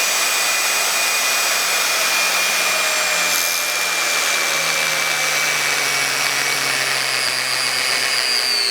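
A power tool cuts down the middle of the sole of a tough, supposedly indestructible shoe with a loud, steady, high-pitched whine that holds without a break, close up and with no talk.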